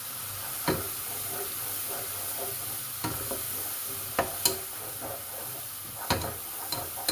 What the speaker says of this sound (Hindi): ये ऑयल मैंने गरम कर लिया था, इसमें डालना अदरक लहसुन का पेस्ट।